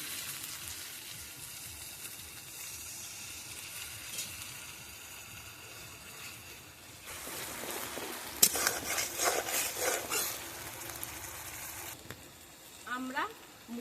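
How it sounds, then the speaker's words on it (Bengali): Cumin and chili paste masala frying in a pan with a little added water, a soft continuous sizzle with occasional stirring and scraping, growing busier and louder partway through. "এবার সামান্য জল অ্যাড করে মশলাটাকে ভালোভাবে কষিয়ে নেব।"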